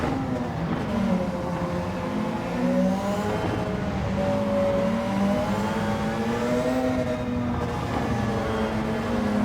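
A Porsche 919 Hybrid race car lapping Spa in Gran Turismo 7 drones with a high, continuous engine whine that rises and falls as it shifts and accelerates, steady and moderately loud throughout, no talk.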